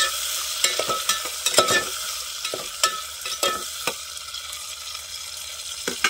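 Tomatoes and onions frying in a pan are stirred with a utensil, giving a soft continuous sizzle broken by repeated sharp scraping and clinking strokes at an uneven pace.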